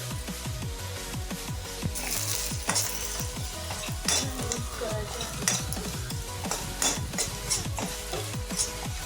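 Dry masala being roasted in a pan for Kolhapuri misal, with a steady close sizzle and repeated scraping, stirring strokes of a spoon against the pan throughout, with no one talking.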